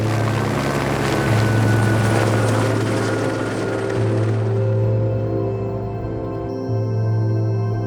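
A loud, steady helicopter rotor thrums continuously with a droning engine whine, close and unbroken throughout, with no voices, during forest firefighting.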